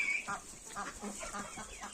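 A young chick cheeps loudly and insistently, a quick run of repeated calls at an even pace, close to the listener.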